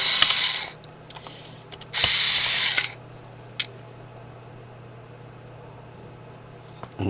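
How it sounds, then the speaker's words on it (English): An electric screwdriver backs screws out of an Asus R516U laptop in two short whirring bursts of about a second each, close and fairly loud, with small clicks and handling sounds between them and no talk. "Now let's use electrical screwdriver. Let's remove these"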